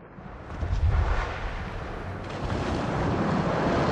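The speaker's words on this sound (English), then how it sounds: "Chunks of ice are falling into the sea 30 times faster than before." Glacier ice breaking off where the glacier meets the ocean and crashing into the sea, a deep, rumbling roar that swells and then holds as a steady broad wash of noise, heard alone.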